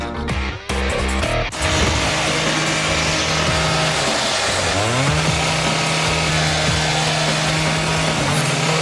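A loud power saw grinds continuously through the metal hinge of a safe, its whining pitch dipping and rising as the blade bites, close and harsh throughout.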